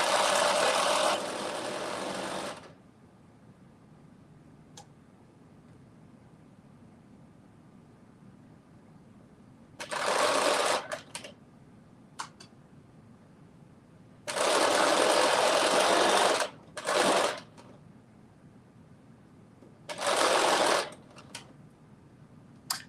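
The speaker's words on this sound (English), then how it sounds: "I'm stitching them together at 3/8 of an inch" A sewing machine stitches fabric pieces together at a 3/8-inch seam, running in several short bursts of rapid whirring separated by quiet pauses, near and moderately loud.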